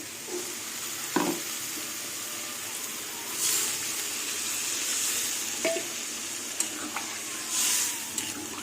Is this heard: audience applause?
no